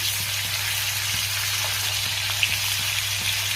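Fish frying in a pan over a high-to-medium gas flame gives a steady, even sizzle with a faint hum underneath, continuous and close throughout.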